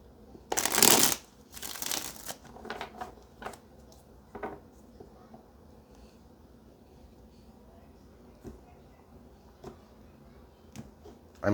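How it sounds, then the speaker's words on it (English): Tarot cards riffle-shuffled twice in quick, loud bursts, followed by softer bridging flutters and scattered light taps, then near quiet. "let's get one more good shuffle"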